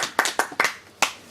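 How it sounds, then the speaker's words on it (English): A few separate hand claps for a quiz contestant, about five sharp, close, loud claps in an uneven rhythm rather than full crowd applause. "Give him a round of applause."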